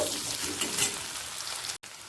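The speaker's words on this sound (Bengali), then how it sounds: "আলুটা হালকা লাল করে ভাজা হয়ে গেছে" Boiled, cut potatoes sizzle and crackle steadily in hot oil until lightly browned, a dense hissing fry heard up close with no talking.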